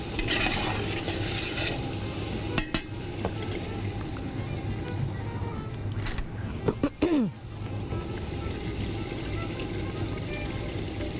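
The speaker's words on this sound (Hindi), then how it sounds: "अब दही डालूँगी।" Yogurt goes into a hot pan and is stirred, giving a steady sizzle with scraping strokes and a brief clatter of the utensil midway, close and fairly loud with no talking.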